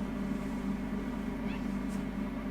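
A cat lets out a couple of brief, faint meows over a steady low background hum.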